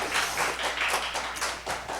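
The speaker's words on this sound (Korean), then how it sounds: "또 박수로 안녕했으면 좋겠습니다." A congregation applauds to welcome guests at a church service, a dense burst of many hands clapping at moderate distance, steady for about two seconds with faint voices beneath.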